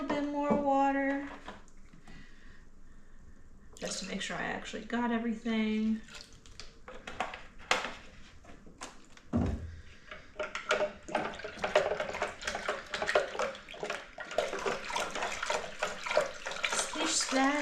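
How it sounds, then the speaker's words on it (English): Water is poured into honey must for a blackberry mead, splashing and trickling in bursts near the microphone, with a person talking over and between the pours. "Gonna add a little bit more water"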